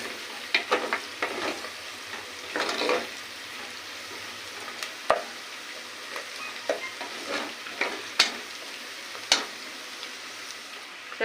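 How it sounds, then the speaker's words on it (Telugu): Onions frying in a pan, a soft continuous sizzle with intermittent sharp scrapes and taps of a utensil stirring, close and unvoiced. "చూడండి ఫ్రెండ్స్, ఉల్లిగడ్డలు వేగిపోయినాయి"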